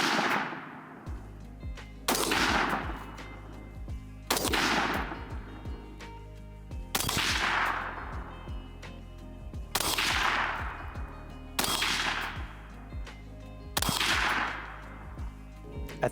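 Suppressed rifle shots from an HK MR556A1 fitted with a Flow 556K suppressor, seven sharp, loud reports spaced about two seconds apart, each with a short ringing decay outdoors.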